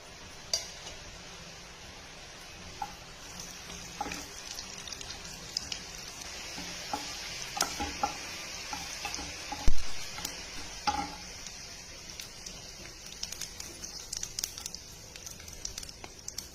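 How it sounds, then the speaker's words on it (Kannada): Steady sizzling of mustard seeds, cumin, urad dal and chana dal frying in hot oil, with occasional crackles, pops and a few light utensil clinks throughout. "ಇವಾಗ ಎಣ್ಣೆ ಬಿಸಿಯಾಗಿದೆ ನೋಡಿ. ಒಗ್ಗರಣೆ ಇದು ಸಾಸಿವೆ, ಉದ್ದಿನಬೇಳೆ, ಕಡಲೆಬೇಳೆ, ಜೀರಿಗೆ ಹಾಕ್ತಾಯಿದ್ದೀನಿ."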